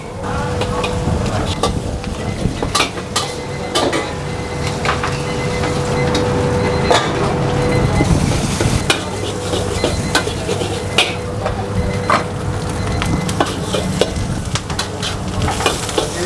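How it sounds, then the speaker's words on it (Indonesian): Seafood kway teow noodles stir-fried in a pan at a busy eatery, with loud continuous sizzling and frying broken by frequent sharp clanks and scrapes of the utensil against the pan, close and steady throughout. "gue sekarang bikin kue tiaw goreng seafood 4 porsi"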